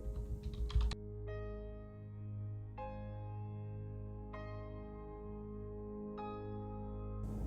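A name is typed on a computer keyboard in a few quick bursts of clicks at the start, followed by a steady electronic tone with a steady hum underneath.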